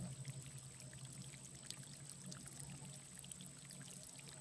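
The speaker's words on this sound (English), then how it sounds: "we listen to the beautiful background sound of water in this meditation" Water flowing and pouring steadily as a faint, even background wash for a sacral chakra healing meditation, with a constant low hum and no voices.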